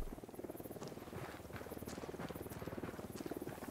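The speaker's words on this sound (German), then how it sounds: "Wie fliegt da die ganze Zeit ein Hubschrauber rum?" A helicopter circling in the video game Ghost Recon Wildlands, a faint, steady rotor chop running continuously in the background beneath other game sounds.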